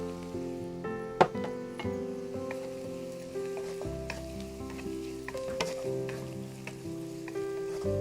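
Carrots tossed into onions already frying and browning in a pan, with boneless chicken for chicken fried rice to follow: steady close sizzling with scraping stirs and a sharp clink of utensil on pan near the start.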